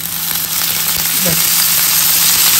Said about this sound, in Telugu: కొంచెం నూనె వేసుకొని ఇది కొంచెం వేగాలి